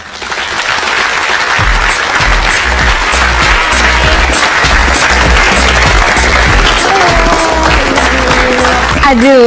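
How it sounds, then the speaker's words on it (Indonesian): Studio audience applause on an Indonesian health talk show welcomes a celebrity guest, loud dense clapping sustained throughout with a musical sting and bass underneath, swelling toward the end. "Tepuk tangan."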